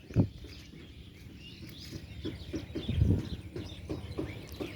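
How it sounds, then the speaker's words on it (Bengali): Birds chirp in a village, including mynas perched on wires, with scattered small calls and chatter over a low background of rumbling noise and thumps. "পাখির কলকাকতলি দেখুন শুনুন"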